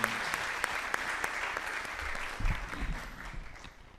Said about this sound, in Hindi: जोरदार तालियों से